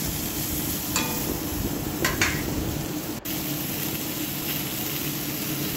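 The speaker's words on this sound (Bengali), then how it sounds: "পটলটা একটু লাল লাল করে ভেজে তুলে নিতে হবে" Pointed gourd (potol) shallow-frying in a little oil, a continuous close sizzle with a few scraping stirs and a sharp clack partway through, no voices.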